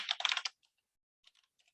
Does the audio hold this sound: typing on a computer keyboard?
yes